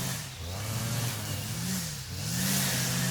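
A lawnmower engine runs at a distance outdoors, a steady mid-pitched drone that swells and dips in pitch over a few seconds, with no voices.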